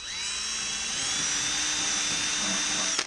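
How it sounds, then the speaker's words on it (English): A wire wheel grinds a Kickbike scooter frame before welding, making a loud, steady, high-pitched whine that holds for a few seconds and then stops abruptly. "Just taking a wire wheel to this area"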